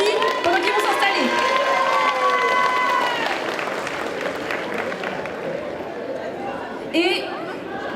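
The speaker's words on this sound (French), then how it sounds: "Encore un grand tonnerre d'applaudissements pour notre jury pendant qu'ils vont s'installer." Audience at a cosplay contest in Rennes applauding the jury, with crowd clapping and chatter under a presenter's voice and a faint cheer near the end.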